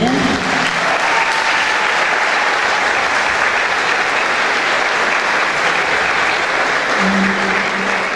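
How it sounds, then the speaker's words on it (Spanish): Loud, dense audience applause at Semana de Puntas de Valdez in Uruguay, an event marking ten years of New Com, a sustained wash of many hands clapping at once, steady and close without a break. "un fuerte aplauso también."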